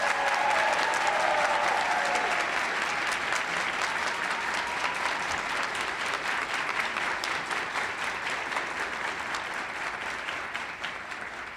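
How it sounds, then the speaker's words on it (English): A crowd at a collegiate speech and debate awards ceremony gives long, dense applause, loud and even at first and slowly thinning toward the end. "receiving a fantastic round of applause"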